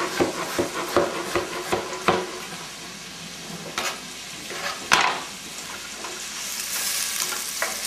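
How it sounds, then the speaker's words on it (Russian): Vegetables for pea soup sautéing in a pan, a steady crackling sizzle with rhythmic scraping and tapping of a utensil stirring against the pan, close and clear. "Я жду, пока овощи немножко, то, что называется, потеют"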